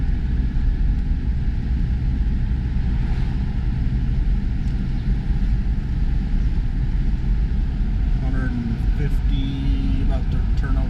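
Toyota pickup truck with a carbureted 22R engine being driven, a continuous low engine drone and road rumble heard from inside the cab for several seconds, with a faint voice in the background.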